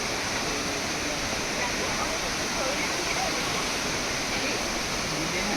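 Roar of Bomburu Ella waterfall in Sri Lanka, a steady, dense rush of falling water that fills the whole clip without pause, close and loud.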